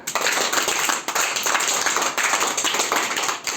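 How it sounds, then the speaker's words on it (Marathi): A group of children clapping their hands loudly together, a dense, steady burst of claps that fills the whole moment. "तीन टाळ्या जोरात वाजायच्या तीनदा तीनदा"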